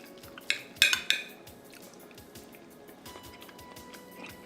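Cutlery clinks and scrapes against a plate during a meal of meatloaf, a few sharp close taps clustered early, then softer scattered clicks.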